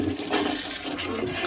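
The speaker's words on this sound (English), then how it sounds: "Nice, powerful flush action." A newly installed toilet flushes with a strong, loud, continuous rush of water that fills the short moment, close up and with no talk over it.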